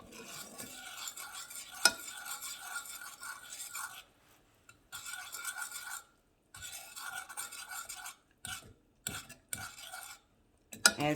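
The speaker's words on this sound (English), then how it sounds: "keep stirring to get the cheese to have an even melt" Cheese melting in a pot on low heat for low-sodium mac and cheese, stirred with a utensil: soft scraping and rubbing strokes in bursts with short pauses, close and fairly quiet, with no talk.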